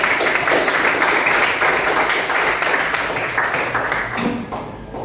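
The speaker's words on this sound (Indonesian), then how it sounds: "Aplaus buat kita semua." Classroom applause from an eighth-grade informatics class, a dense burst of many hands clapping that stays loud and then tapers off toward the end.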